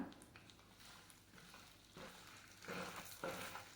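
Mustard seeds sizzling in a hot pan as a final addition to a spice mix, a faint, low crackle and hiss that grows a little busier toward the end, with no voices.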